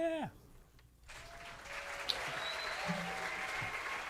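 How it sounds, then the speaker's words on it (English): Applause played as a sound effect on a show rises after a brief pause and continues as soft, steady clapping, fairly faint, with a brief voice at the start. "it was good to have some, like an option for some applause"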